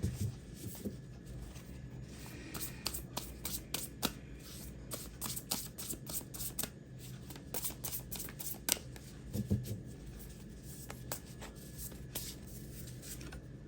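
Someone shuffles a deck of tarot cards by hand, making a quiet, close run of rapid riffling flicks and soft card slaps that come in irregular bursts, with no speech.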